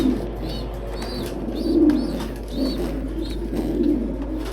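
Dragon Grizzle pigeons coo close by in a loft, soft repeated throaty calls rising and falling every second or so over a low steady hum.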